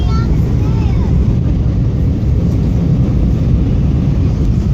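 Steady broadband roar of an airliner cabin during descent and landing approach into Phoenix, Arizona, loud and constant throughout with no pauses.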